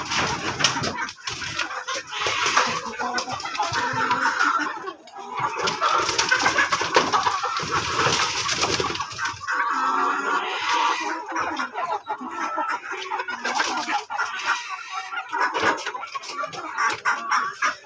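Native village chickens cluck while feeding nearby, with irregular bursts of clucks and soft calls layered over rustling and pecking throughout.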